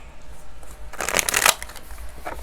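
Tarot cards are shuffled by hand in a quick burst of crisp riffling and flicking over about half a second, close up and fairly loud, with quiet room tone on either side.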